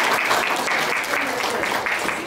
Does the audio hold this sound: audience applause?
yes